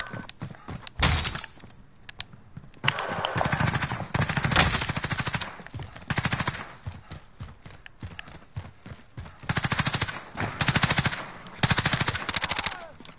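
Bursts of automatic gunfire from Call of Duty Warzone, loud and close, with rapid rattling volleys separated by brief pauses and several longer sustained strings of shots near the end.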